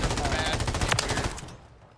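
Rapid MCW rifle fire in a multiplayer shooter game, a fast rattling burst of close shots that cuts off after about a second and a half, leaving quiet.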